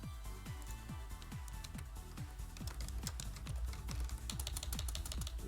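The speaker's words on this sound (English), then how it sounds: "Typing is hard." Rapid clicky typing on a computer keyboard, a dense irregular patter of keystrokes running without a break, fairly quiet and close with no talk.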